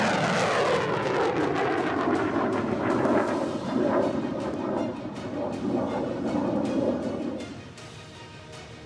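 A missile launches with a loud, sustained roaring rumble that builds and then fades, accompanied by crackling bursts before it tails off near the end.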